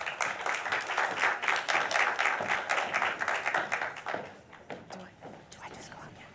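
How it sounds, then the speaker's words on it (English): Applause from an audience at a women's movement-building conversation event, dense clapping with chatter mixed in, fading into scattered claps and voices toward the end. "Let's give them a round of applause and thanks again"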